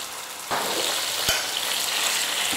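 Chicken pieces with garlic and lemon hit a hot pan and sizzle loudly and steadily, close up, with a faint utensil tap partway through.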